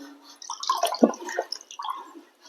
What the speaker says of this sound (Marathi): हे पाणी आता खाली करतो मी